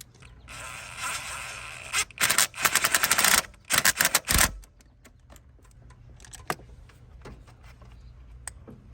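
Ratcheting of a 10 mm bolt holding an ignition coil into the cylinder head of a 2002-2009 Chevy Trailblazer, heard as rapid clicking bursts that stop and start near the mic, followed by quieter scattered clicks and handling noise.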